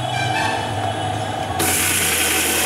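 Kitchen mixer grinder running on a spice paste for sambar masala with a little water, a loud continuous motor whine and grinding hum that rises sharply in pitch and brightness midway.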